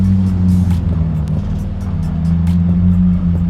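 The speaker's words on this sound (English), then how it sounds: "Look, Ferrari's pulling in." A Ferrari pulls into the back lot of a Ferrari dealer's open house, giving a steady, fairly loud engine hum close by that swells slightly as it rolls in.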